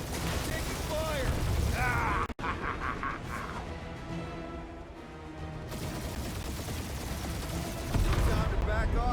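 Gunfire in Marvel's Guardians of the Galaxy keeps up in fast mechanical bursts through a loud battle mix, with voices shouting over it, one brief dropout, and heavier firing toward the end.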